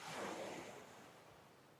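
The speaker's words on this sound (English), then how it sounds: "keep yourself immersed in the beach, hearing to the sound of the waves." Ocean waves wash onto a beach in a soft, broad rush of surf that swells and slowly fades, faint and distant, with a little wind and no voices.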